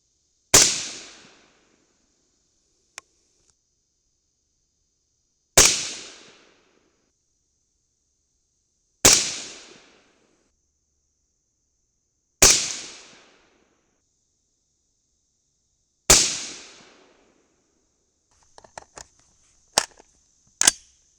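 Rifle shots firing .223 bulk bullets loaded with N140 and Benchmark powder, five loud sharp cracks spaced several seconds apart with short decaying tails, then a cluster of quicker smaller pops and two more reports at the end.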